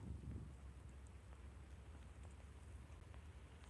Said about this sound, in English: It is pouring. It is pouring.